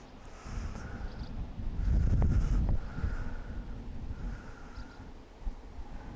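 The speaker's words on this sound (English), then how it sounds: "you can see the wind's really swirling" Wind blows over a river, heard as low, rumbling buffeting against the microphone that swells in a stronger gust midway, with a soft airy background and no talk.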